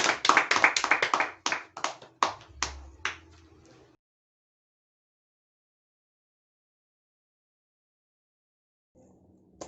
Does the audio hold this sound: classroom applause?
yes